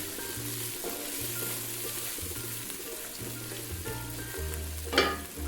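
Steady sizzling of ginger and garlic frying in a hot pan, a continuous crackle with a brief louder burst near the end.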